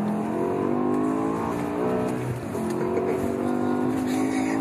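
A Hartge-tuned BMW M5 E60 with its 560 hp V10 and complete exhaust system growls with a loud, sustained engine note that dips briefly and then builds again, while people talk nearby.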